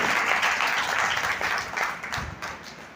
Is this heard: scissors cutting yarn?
no